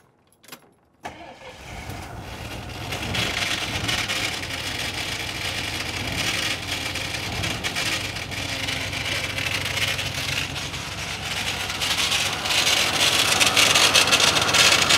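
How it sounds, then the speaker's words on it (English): A 1979 Jeep Cherokee's starter kicks in after a click and keeps whirring continuously without disengaging, a steady mechanical drone that grows louder near the end, with brief voices underneath. "Okay, the starter won't kick back out, of course."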